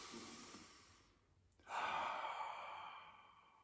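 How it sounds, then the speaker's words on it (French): A person takes a slow, deep breath during a guided meditation, a soft exhale fading out and then a close, audible inhale that trails off quietly. "je t'invite à prendre une bonne respiration"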